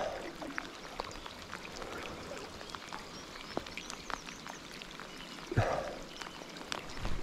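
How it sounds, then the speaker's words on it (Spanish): Heavy rain falling on a cold river during trout fishing, a steady hiss of drops across the water with scattered sharper splashes, fairly even and moderately loud throughout. "Madre mía, cómo llueve."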